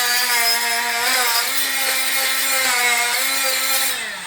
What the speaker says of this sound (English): Scraping glue. So loud.